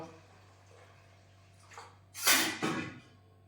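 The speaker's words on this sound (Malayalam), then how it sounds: "അതിനുശേഷം ആവശ്യത്തിന് വെള്ളം ഒരു 4-5 കപ്പ് ഇടാം കേട്ടോ" Water pours into a cooking pot for bisibelebath, Karnataka-style rice and moong dal with vegetables, in a loud gushing splash that rises, briefly breaks off and surges again after a faint quiet lead-in.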